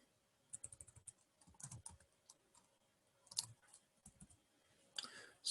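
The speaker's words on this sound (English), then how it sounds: "Hopefully my typing isn't too loud." Soft, quick keystrokes tapping on a computer keyboard in irregular bursts, fairly close and quiet, with a few louder clacks near the end.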